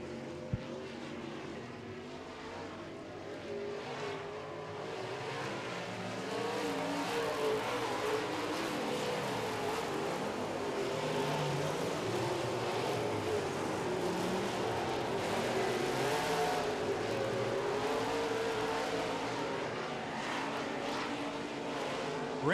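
Modified race cars roar around an oval track in a heat race, a dense, sustained engine drone that swells and holds loud as the pack passes, with no voices over it.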